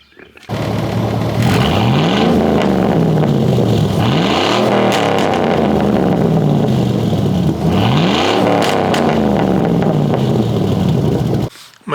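A modified Corvette fitted with side pipe exhaust revs loudly and up close, rising in three repeated sweeping pulls and dropping back to a rumbling idle between them.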